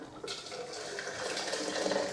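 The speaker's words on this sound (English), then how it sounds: "a little dash of boiling hot water." Hot water pours steadily into a tin of malt extract during homebrewing of a Newcastle Brown style beer, a continuous close splashing and trickling that fills the whole moment with no voices.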